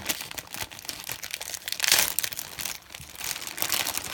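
A plastic bag from a toy soldier set is handled and opened up close, giving continuous crinkling and rustling with a louder crackling burst midway, and no one talking over it.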